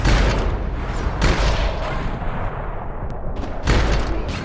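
Heavy gunfire from the video game Max Payne 3, a dense loud barrage of shots and booms with bursts swelling at the start and end, continuous and close.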